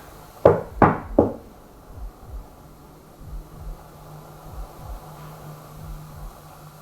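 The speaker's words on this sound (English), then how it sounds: "I'll do some knocking." Three sharp, loud knocks on a door or wall inside a house, close and evenly spaced, followed by quiet room hiss and faint low thumps.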